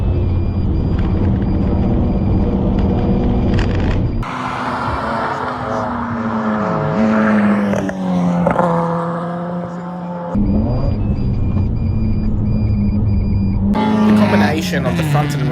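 Onboard at Mallala Motorsport Park, a Mazda RX-8 race car's rotary engine screams loudly through the rev range, with repeated rising pitch under acceleration broken by sharp drops at gear changes and braking.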